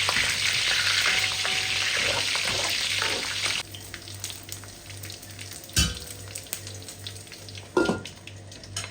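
Hot cooking oil sizzles loudly while string beans and squash are sautéed. After a few seconds the sizzle drops to a quieter crackle, with occasional utensil knocks.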